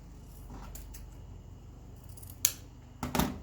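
Sharp scissors snip diagonally through mesh ribbon while a fall wreath is being made: a quick cut midway, then a louder cluster of close snips near the end over a quiet room.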